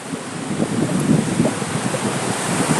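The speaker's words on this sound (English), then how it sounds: "Home sweet home, living near the ocean." Ocean surf near the shore, a continuous rumbling wash of waves mixed with wind buffeting the microphone, loud and steady without speech.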